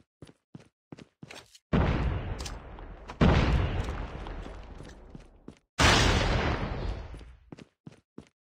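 Grenade blasts in a Call of Duty search-and-destroy multiplayer match, loud booming bursts that decay over a second or two, separated by sharp clicks and short mechanical snaps of gunfire.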